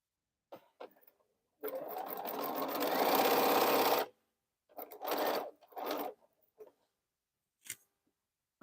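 A sewing machine stitches a section of a heavy T-shirt quilt, one long steady run of a couple of seconds followed by several shorter bursts and a few faint clicks.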